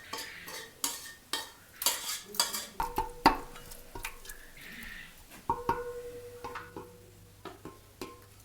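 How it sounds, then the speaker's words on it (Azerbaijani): Rooster meat being stirred into fried onions in a pot, with a series of soft scraping and clinking utensil strokes and light sizzling, close and quiet, with no talk. "İndi mən bu ətimizi soğana qatıram. İndi soğanı tökürəm qazanımıza."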